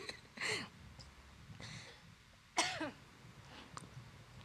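A woman with several days of sore throat coughs twice in a quiet room. Both coughs are short and fairly soft, with a pause between them.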